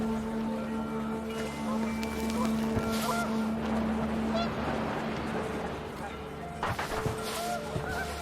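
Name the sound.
panicked geese honking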